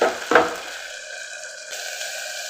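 Onion and ginger garlic paste sauté in a pan, giving a steady sizzle after a couple of brief stirring scrapes at the start; no speech.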